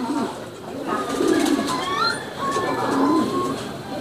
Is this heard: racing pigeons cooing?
yes